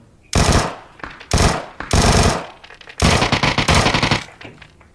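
An automatic rifle fires loud, sustained bursts in a first-person shooter game, several long rattling volleys separated by brief gaps, close and harsh.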